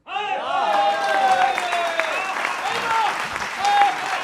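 Audience applauding at a Delhi election 2025 political comedy event, a steady, dense wash of clapping that fills the whole stretch loudly, with a few voices and whistles rising above it.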